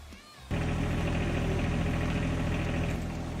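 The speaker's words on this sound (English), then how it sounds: "Tractor's so freaking loud, man." A John Deere 1023E/1025R compact tractor engine starts up abruptly and then runs loud and close at a steady idle, with a constant low mechanical drone and hum that persists without a break.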